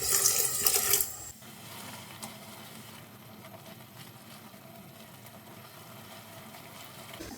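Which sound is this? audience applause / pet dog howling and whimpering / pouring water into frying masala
pouring water into frying masala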